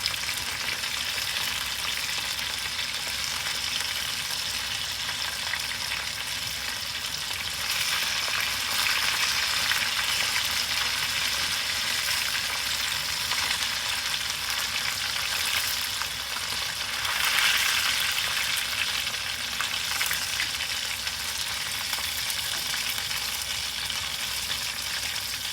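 Japanese karaage chicken deep-frying in hot oil, a steady, loud crackling sizzle that continues without a break and swells slightly in places, with no talking.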